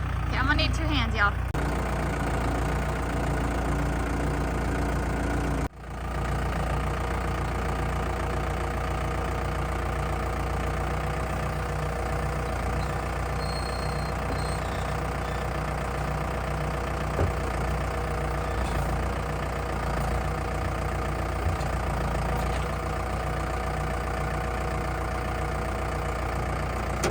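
A heavy tractor engine idles steadily and close by on a farm, a constant low rumble with a brief knock partway through, while a person speaks over it.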